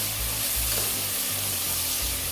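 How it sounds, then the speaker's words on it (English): Chicken liver browning in a pan for Jamaican brown stew, a dense, continuous close sizzle with a faint low hum underneath. "this is browning nicely"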